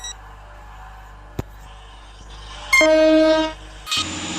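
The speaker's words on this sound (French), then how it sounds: "le train a le même klaxon que le classe 801 et que le classe 802" Train horn from the Stepford County Railway video game, matching the Class 801 and 802 horn, blares in a loud two-tone blast over a low rail rumble, with a brief click before and another tone after.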